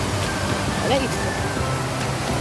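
The waterfall at Cachoeira Encantada in Joanópolis, São Paulo, roars as a continuous broadband rush close by, with a voice speaking faintly over it.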